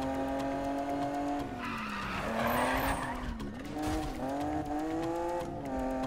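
A car spins through a 360 drift with a long tire squeal and screech that rises and falls under engine noise, loud and close throughout.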